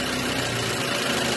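A car engine runs at idle during an idle speed control valve test, giving a steady, dense hum with a low throb that holds even and unbroken throughout, close by and with no speech.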